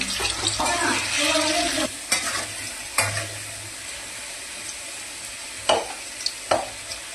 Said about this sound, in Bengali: এবার আমি আলুগুলোকে ভেজে দেব